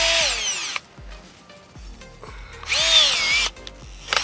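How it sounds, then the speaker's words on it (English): A handheld power auger bores a dirt hole for a predator trap in Missouri. It makes two loud, whining bursts of drilling separated by a short pause, close by and with no talk. "Next, I'll take my auger."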